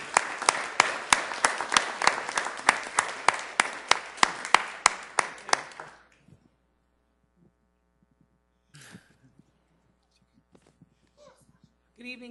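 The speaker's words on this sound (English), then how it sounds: "let's give them a round of applause and thank them for their efforts" A Sioux Falls city council meeting audience gives a round of clapping that runs steadily for about six seconds then stops, followed by near silence with a few faint knocks and room hum.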